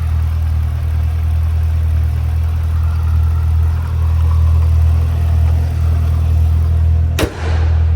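A 2014 Cadillac CTS-V's 6.2-liter supercharged V8 idles steadily with a deep, low rumble throughout, ending with a brief sharp knock near the end.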